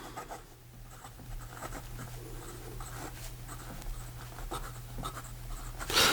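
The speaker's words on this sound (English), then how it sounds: "So here we go with the writing sample for the Montegrappa" Medium steel nib of a Montegrappa American Dream fountain pen scratching across paper, close and quiet, with short repeated strokes and pauses as words are written, over a low steady hum.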